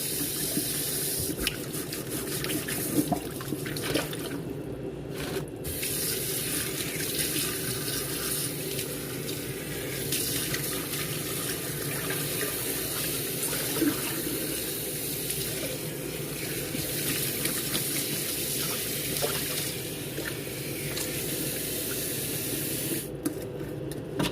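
Tap water runs steadily into a kitchen sink while salt-rubbed meat is rinsed under it, a continuous close splashing rush with small shifts as the meat is handled.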